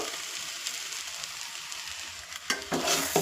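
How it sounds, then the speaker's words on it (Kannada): Soaked flattened rice (avalakki) stirred and frying in a pan for egg rice, a soft steady sizzle with scraping strokes that grow louder near the end, no talking. "ಇವಾಗ ಇದನ್ನು ಚೆನ್ನಾಗಿ ಮಿಕ್ಸ್ ಮಾಡ್ಕೊಳ್ಳೋಣ"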